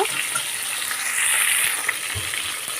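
Ari fish frying in oil, a loud close sizzle with a bright, continuous hiss, occasional pops and a brief watery gush partway through, no speech.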